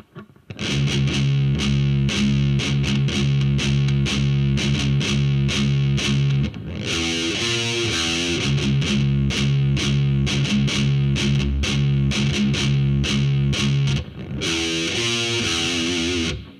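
Distorted heavy metal electric guitar playing a riff slowly on the low strings, loud sustained chugging notes and held tones across about sixteen seconds, with a short drop in intensity partway through and no voices.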